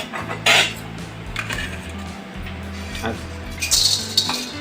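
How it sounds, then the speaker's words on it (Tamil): Urad dal roasting in oil in a pan, heard mostly as metal spoon scrapes and clinks against the pan over a low hum, with a few sharper clatters. "உளுந்தையும் எண்ணெய் ஆட் பண்ணிவிட்டு நல்லா பொன்னிறமாக வர வரைக்கும் நல்லா வறுத்து எடுத்துக்கலாம்"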